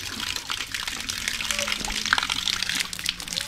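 Spring water flows and splashes in a constant gurgling rush at close range, with voices talking over it now and then.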